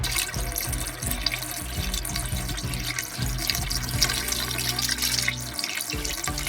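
Windshield washer fluid is poured steadily down a long filler neck under a car's hood, a close continuous gurgling, glugging liquid stream with no talking.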